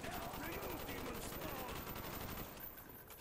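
A Commando assault rifle fires in Call of Duty Zombies: dense, rapid automatic shots run steadily throughout, thick with game noise and fading slightly near the end.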